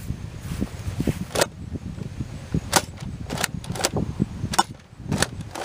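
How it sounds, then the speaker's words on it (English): Buzz Bee Air Warriors Interceptor toy blaster shooting long-distance darts outdoors, a series of sharp, snappy pops spaced irregularly over steady low background rumble, each shot brief and fairly close. "Now here we go with 10 shots of the long distance darts."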